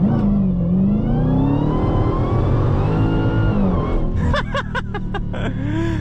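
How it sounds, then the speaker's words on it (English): A Dodge Challenger Demon 170's supercharged engine revs loud and close, a rising and falling whine layered over a heavy rumble, then breaks into a rapid series of sharp clicks or pops near the end. "The whine, the supercharger whine is insane."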